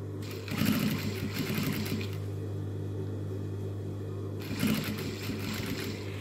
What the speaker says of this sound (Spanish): voy a coser respetando ese margen que tiene originalmente el jean